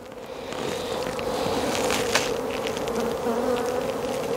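Honey bees buzz at an open hive in a continuous close drone, with some wind noise and no talking.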